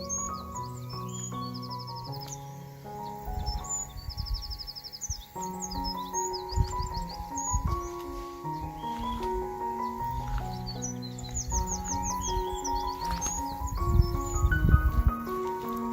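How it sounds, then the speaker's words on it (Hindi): Birds chirp and trill repeatedly through the backyard of a hillside mountain home among apple and walnut trees, bright overlapping calls over a steady bed of low tonal music. "पूरा दिन पंछी की आवाज़ गूंजती रहती है जो बहुत ही स्वीट रहती है।"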